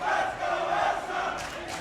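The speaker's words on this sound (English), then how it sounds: "When you hear both, the entire crowd, both a cheer section for Elsa and BSG." A tournament crowd at a Granblue Fantasy Versus Rising top 8 roars in two overlapping cheer sections for rival players, a dense, sustained chanting wall of voices that stays loud for the whole moment.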